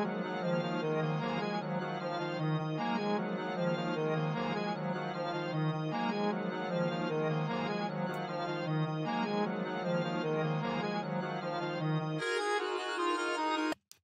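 A melodic sample in an FL Studio trap beat pitched down an octave by pitch automation, repeating a steady pulsing phrase, then jumping back up to normal pitch near the end, loud and alone.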